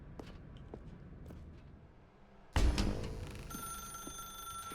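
A telephone rings in the video game The Stanley Parable Deluxe. A loud tone starts suddenly partway through and keeps ringing with sustained bright overtones, after quieter ambient taps and shuffles.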